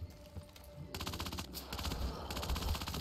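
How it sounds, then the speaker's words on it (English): Rapid, loud bursts of Tommy gun fire in an old World War era shooter video game, a continuous automatic chatter starting after a brief quiet moment and hammering on to the end. "Tommy gun."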